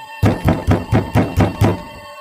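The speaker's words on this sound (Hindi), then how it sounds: "तभी फिर से दरवाजे पर दस्तक होती है।" Six loud, evenly spaced knocks on a door, close and crisp with no voices, used as a sound effect in a spoken horror story.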